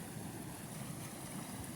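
Spring water welling up from an underground source in dry rural Italian countryside, a steady close rushing wash that runs unbroken and fairly soft, with no voices.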